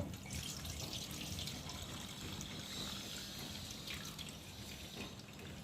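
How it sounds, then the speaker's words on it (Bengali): Flattened rice (chira) is washed by hand in a bowl of water, giving soft sloshing, trickling and dripping at close range, fairly quiet and with no speech. "ভালো করে গলে দিয়ে একটু ধুয়ে জলটাকে একবার পাল্টিয়ে নেব"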